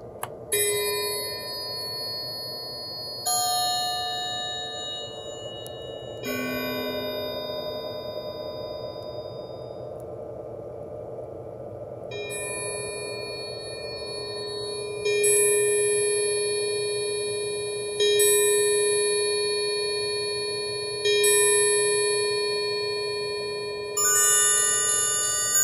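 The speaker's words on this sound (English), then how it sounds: "Loading sound number 69, which is the bell sound to the top keyboard." A Con Brio synthesizer plays a bell patch through a looping sequence, sustained metallic bell tones struck every few seconds and ringing out over a steady hum, loud and close with no talking.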